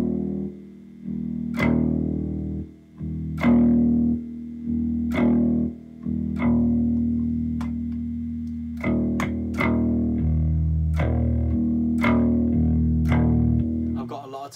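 An electric jazz bass with its pickups wired out of phase plays plucked notes one after another, with a thin, hollow, nasal tone, close and clear with no voices.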